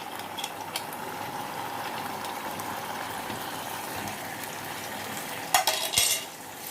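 Chicken kofta sizzles as it is added to a simmering sauce of salt and black pepper, with a steady frying hiss, a few sharp clinks of a utensil against the pan, and stirring scrapes near the end.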